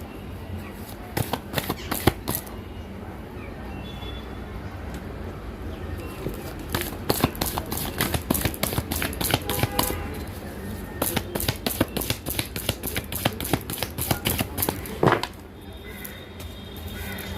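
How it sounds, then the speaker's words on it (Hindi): Tarot cards shuffled by hand in a series of quick riffling bursts, crisp and close, with short pauses between rounds and a brief quiet stretch before the final flurry. "एक बार मैं कार्ड को फिर से बहुत अच्छी तरह से मिक्स करूँगी"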